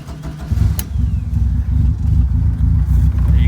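Ford Escort RS Turbo engine cranks and catches without throttle, then settles into a loud, close, lumpy burbling idle that runs steadily, with no speech.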